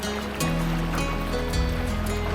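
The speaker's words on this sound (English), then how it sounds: "this is a runnable rapid, maybe a class 1, maybe" A canoe pushes through a splashy class 1 rapid on the French River, with continuous rushing water and repeated wave slaps against the hull, loud and close throughout.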